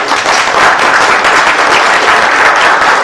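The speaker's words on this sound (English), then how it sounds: "You can clap your hands on that one." Loud, dense applause from a conference audience, a continuous roar of many hands clapping with no pauses.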